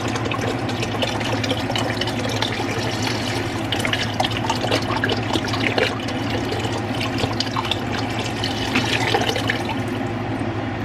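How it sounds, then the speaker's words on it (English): Vegetable broth pours into a cooking pot in a home kitchen, a long, steady, close gurgling stream of liquid with no talking. "I'm going to get this broth in and then I will..."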